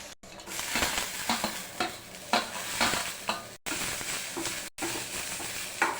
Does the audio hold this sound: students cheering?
no